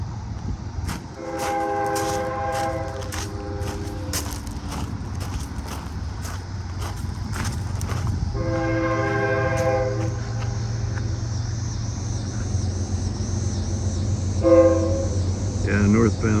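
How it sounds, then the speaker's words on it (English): A northbound Canadian National freight train sounds its horn in repeated loud blasts over a low rumbling engine and rolling cars, passing near a brick platform by a former Pennsylvania Railroad freight station, with brief talk underneath. "I think we got a northbound Canadian National Freight."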